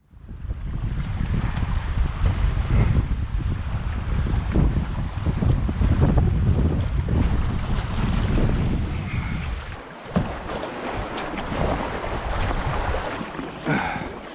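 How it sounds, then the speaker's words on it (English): Steady gusting wind roars over the microphone on open water during canoe paddling in northern Manitoba, a dense continuous rush with occasional splashes and no talking. "Just picked up again too, eh, the wind?"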